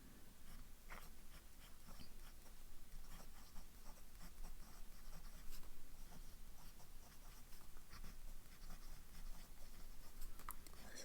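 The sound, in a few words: writing with a broad-nib fountain pen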